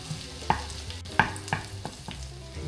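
Garlic frying in a pan with chicken pushed to one side, a soft steady sizzle broken by a few sharp clinks of a utensil stirring and scraping the pan.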